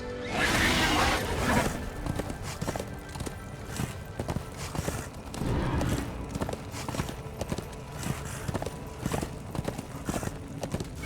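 Horse hooves clip-clop steadily in the Darksiders II video game, a regular rhythm of hoofbeats at moderate distance mixed with faint whooshes and ambient game sounds.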